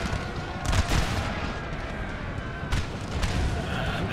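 Artillery and musket fire rumble in the Napoleon: Total War video game, a dense, continuous roar of distant booms and crackling volleys with a few louder swells, steady throughout.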